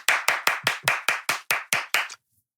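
Ten crisp, evenly spaced hand claps from a single person on a podcast, close and clear in a steady rhythm, stopping abruptly into silence.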